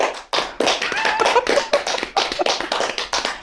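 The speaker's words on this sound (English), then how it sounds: "I think she deserves a round of applause for that intro." A small group claps for an intro on a podcast, with brisk, uneven applause starting just after a brief pause, close and fairly loud, running steadily to the end.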